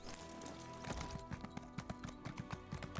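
Horse hooves clip-clopping in Elder Scrolls Online, a steady trotting rhythm of distinct close hoofbeats that sharpens and quickens partway through, with no voices.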